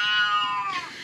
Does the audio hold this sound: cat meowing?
yes